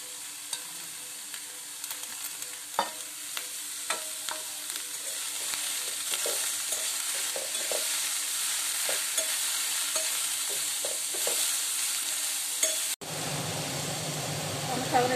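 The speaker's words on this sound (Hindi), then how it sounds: "शिमला मिर्चा और प्याज दे देवा।" Capsicum and onion stir-fried in a pan for an egg roll, giving a constant loud sizzle with repeated clicking stirs and scrapes of the spatula throughout, ending with a sudden change to a broader hiss.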